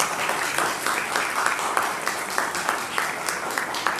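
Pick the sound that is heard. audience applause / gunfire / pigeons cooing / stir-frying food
audience applause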